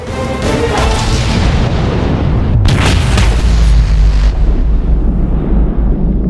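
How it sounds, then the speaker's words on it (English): The massive guns of the battleship USS New Jersey firing: a huge, deep blast that roars and rumbles on, with a second sharp report about midway, then a long fading low rumble, all very loud. "Once this is pulled, the guns are fired."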